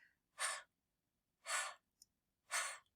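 Three soft, breathy exhales voicing the /h/ sound, evenly spaced about a second apart, like whispered puffs of air, close and quiet with silence between them.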